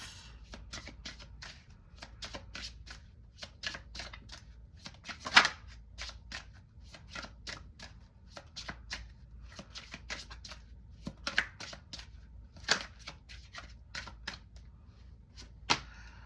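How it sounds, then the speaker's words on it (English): Tarot cards being shuffled and drawn, with close, quiet rapid riffles and sharp flicks and taps scattered irregularly over a near-silent background, no talk. "Let's pull some final cards."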